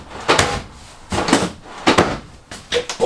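Kitchen drawers in a 2019 Grand Design Transcend 30MKS travel trailer are opened and shut in three separate bursts of wooden sliding and thudding, close up and with no talk.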